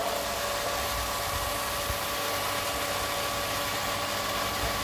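Clarke SPE1200SS electric water pump running steadily as a fireman-style hose gun is opened, a constant mechanical hum with broadband hiss and faint tonal whine, even and unbroken throughout.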